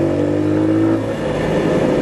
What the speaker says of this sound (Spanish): Es una moto forzudita.